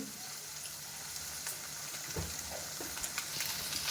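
Sugar stirred into a hot pan of mango paneer mixture, a continuous close sizzle with soft scraping and stirring strokes throughout, no talking.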